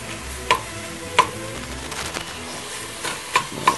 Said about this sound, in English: We'll chop this up so it won't be too chunky.